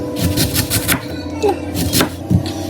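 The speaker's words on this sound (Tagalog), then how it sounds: "Ayan, maganda na yung slice ko ng cabbage." A knife slices through cabbage on a cutting board in quick, rhythmic chops, a run of close, crisp strikes followed by a few more spaced cuts, with brief speech mixed in.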